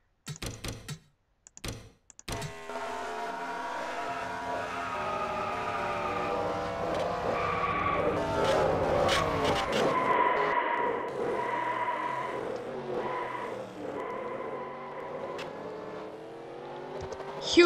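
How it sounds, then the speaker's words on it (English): Racing cars pile into each other at Darlington in a racing video game, with sharp crash clicks at the start followed by a sustained, layered whine of engines building and fading, alone without talk. "see what the fans saw as many cars piled up into each other"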